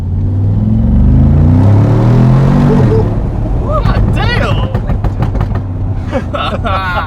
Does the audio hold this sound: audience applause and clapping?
no